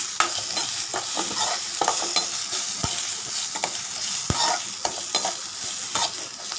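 Green chilli and ginger frying in hot oil for a yogurt vada kuzhambu, a steady close sizzle broken by sharp scrapes and taps of a spoon stirring against the pan, with no talking.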